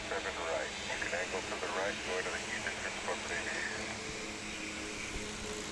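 A Martinair Super Cargo Master freighter departing Dallas Fort Worth International Airport, a steady broad jet engine roar heard under continuous nearby talking.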